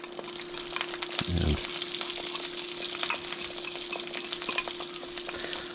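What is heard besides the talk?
chorizo frying in a pan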